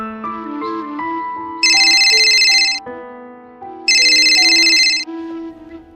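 A mobile phone ringtone for an incoming call plays a loud, close melodic tune, with bright repeating ringing bursts twice during the melody.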